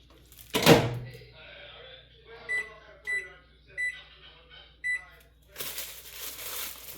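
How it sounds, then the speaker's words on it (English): A microwave oven in a home kitchen: a door thump, several short electronic keypad beeps, then a steady broadband whir as it starts running, fairly close. "And then you're supposed to microwave it for like 10 seconds."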